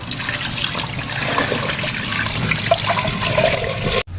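Water pours steadily into a cooking pot of onions and pepper, a close gurgling splash that continues for several seconds before cutting off abruptly.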